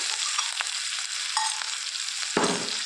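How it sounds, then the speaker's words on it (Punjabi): Coarsely crushed ginger, garlic and green chilies sizzle in a pan with cumin for malai kaddu, a constant close frying hiss with a brief stirring clatter near the end. "ਅਦਰਕ ਲਸਣ ਨੂੰ ਆਪਾਂ ਹੁਣ ਭੁੰਨ ਲਿਆਗਾ"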